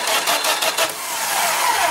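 A starter cranks a 4A032 military engine on thin cables, giving a rapid, rhythmic churning that pulses for about a second and then settles into a steadier whir, loud and close.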